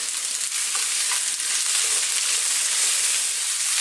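Tofu with peppers and zucchini stir-frying over high heat in a pan, a loud, steady broadband sizzle with occasional scraping and tossing clatter, close and continuous without voices.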